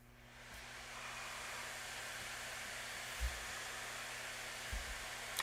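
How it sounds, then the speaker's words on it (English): Acer Predator Helios 300 gaming laptop fan running at max speed, a faint, steady broadband whoosh with a few soft bumps, heard alone. "I'm guessing that's around 50 to 55 decibels of fan noise."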